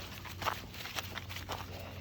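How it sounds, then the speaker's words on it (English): Footsteps scuffling through fallen leaves on a forest trail near old camp structures, soft irregular crunching and shuffling steps, faint and close against a low background hum. "The sound of scuffling on a trail in all the leaves is a sweet,"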